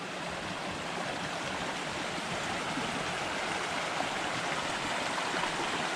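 A mountain creek at Kanarraville Falls rushes steadily over rocks, a dense, continuous wash of flowing water close by, with no voices over it.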